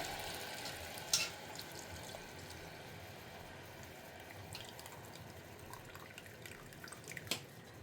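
Spice powders fry in hot oil, a steady low sizzle with a few soft drips and splashes, including a brief louder splash as tamarind water goes in, all at moderate distance with no talk.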